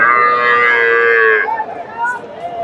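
A cow lows long and loud at a busy Bogura cattle market selling local, Sahiwal and Friesian-cross dairy cows and calves, the drawn-out moo filling the first half before fading into a quieter background.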